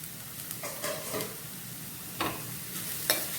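Chopped onions and tomato pieces frying in an AMC cookware pan, with a soft continuous sizzle broken by a few short scraping stirs of a spoon, close and fairly quiet.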